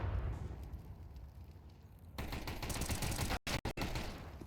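Bursts of Tech-9 pistol gunfire in a Counter-Strike match, a dense rattle of rapid shots that grows louder and fuller midway, then breaks off in a few sharp cuts near the end.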